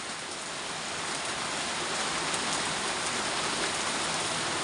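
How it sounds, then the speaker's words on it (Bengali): Heavy rain pouring down after a long hot spell, a dense, steady hiss of rainfall on surfaces that stays loud and continuous throughout, with no voices. "অনেকদিন পর আমাদের এলাকায় বৃষ্টি।"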